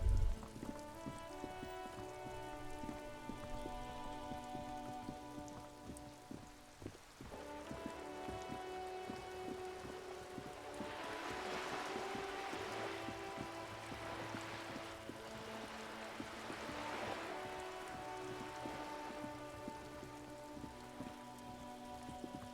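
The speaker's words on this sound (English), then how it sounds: "This rain will not let up anytime soon." Rain in the video game Disco Elysium pours as a soft, continuous patter under layered sustained musical tones, quiet and steady throughout with no one talking.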